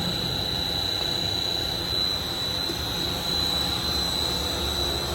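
The motor of a screw and barrel extrusion machine with a reducer runs at a steady industrial drone with a constant high whine, loud and continuous throughout, with no talk.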